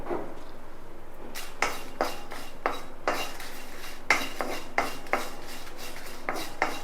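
A spatula scrapes and clinks against a pan in a steady series of sharp strokes while black sesame seeds and broken red chillies dry roast, with a faint hiss between strokes.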